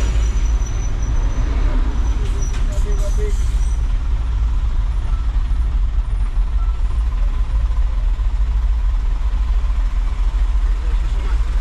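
A dump truck carrying a load drives along a bumpy road, its low engine rumble steady and loud throughout, with some faint higher rattles early on.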